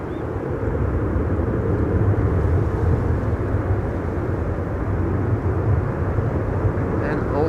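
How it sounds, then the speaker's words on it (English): A business jet takes off from runway 22, its engines a loud, steady low roar throughout with someone talking over it. "Welcome to BizJet TV with a BizJet just taking off from runway 22."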